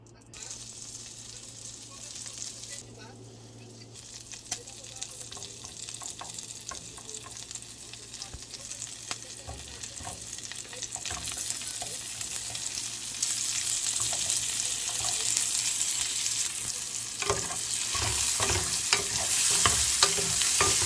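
Zucchini and chicken breast sizzle and fry in butter in a home-kitchen pan, with steady crackling and occasional stirring scrapes that grow louder toward the end, without speech.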